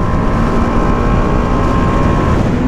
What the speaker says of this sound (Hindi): बाइक का आवाज और स्पीड देके आप समझ जाओगे कि भाई बाइक जो है ट्रैक मोड में मतलब फुल बीस्ट